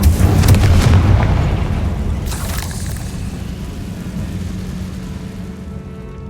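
A Confringo blasting curse goes off in Hogwarts Legacy, a loud deep explosion with a heavy low boom at the start that rolls on and slowly fades over several seconds, a brief crackling burst partway through.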